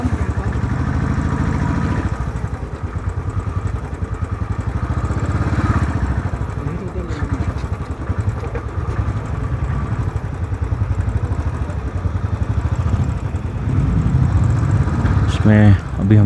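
A motorcycle carrying a rider and a pillion passenger rumbles steadily along a road on a 2021 trip toward Leh and Khardung La, its engine noise continuous and fairly close, with no talk until a voice at the very end.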